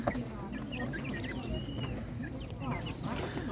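Spanish and Master Gray chickens at an animal market cluck and squawk repeatedly nearby, with overlapping calls amid a murmur of market voices.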